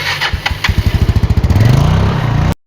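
A motorcycle engine sputters in a few loose bursts, then settles into a fast, steady thumping that climbs as it revs, close and loud, before cutting off abruptly.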